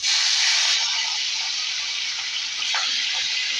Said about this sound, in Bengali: রুই মাছের মাথাটায় নুন হলুদ মাখিয়ে রেখে দিয়েছিলাম, সেটা এবার লাল করে ভেজে নিই।